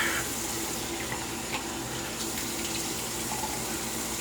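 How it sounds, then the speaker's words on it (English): Steady hiss of cold water running from a tap, continuous and even, close by, with no voices. "Cold water."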